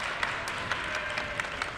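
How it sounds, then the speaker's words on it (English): A crowd fills a high school fieldhouse with steady applause during an Altoona versus Chambersburg volleyball match. Dense, continuous clapping is heard from many people, with sharper claps popping out of the wash. "Everyone's clapping here Everybody in in the Fieldhouse."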